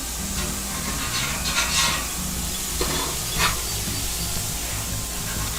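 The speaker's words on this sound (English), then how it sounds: "You always want to hear your food sizzle." Food sizzles steadily on a hot grill at a Fourth of July cookout, a continuous bright frying hiss with a few louder crackling bursts and a low background rumble, no voices.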